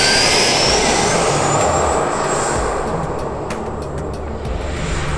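An FMS BAE Hawk 80mm EDF model jet takes off down a runway, its ducted fan giving a loud, steady high-pitched whine and roar that rises in pitch and then eases slightly as it pulls away.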